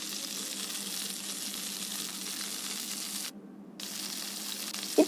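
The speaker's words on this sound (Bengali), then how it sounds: "তো তেলটা হালকা গরম হওয়ার পর দিয়ে দিচ্ছি কাঠিগুলো।" Chicken boti kabab skewers sizzle in a little lightly heated regular soybean oil, a steady, close frying hiss with a brief dip and a few clattering knocks at the end.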